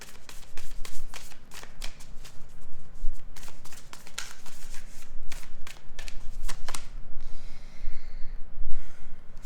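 A deck of moon phase cards is shuffled close by, with crisp riffling bursts and flicks repeating irregularly, mixed with soft breaths and handling noise.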